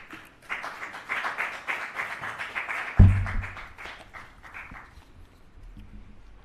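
Audience applause rises at a government human rights forum in 2022, a burst of dense clapping that thins out and fades, with a sudden low thump partway through.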